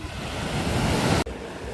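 Sea waves wash onto a beach on the Greek island of Kos, with a loud, close, rushing surf and some wind buffeting the microphone before an abrupt cut.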